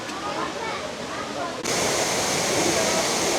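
Sütüven Waterfall in Edremit pours in a steady, dense roar of rushing water, close and constant, with a sudden shift to a brighter, fuller hiss partway through.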